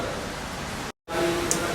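Steady rain falls outside a building in Dubai, a dense even wash of hissing noise that cuts out briefly midway and then resumes just as loud.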